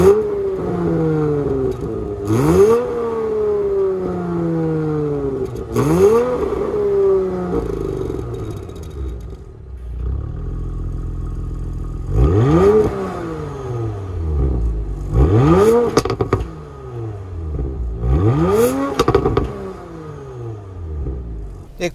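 A Porsche Macan GTS engine revs several times, heard from outside the car, each blip rising sharply then falling into a throaty idle rumble, loud and close, with no talking.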